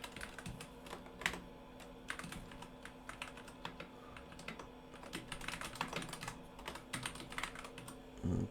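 Rapid, uneven clatter of keys on a computer keyboard, close and fairly quiet, with short bursts and brief pauses while text is entered; no one speaks.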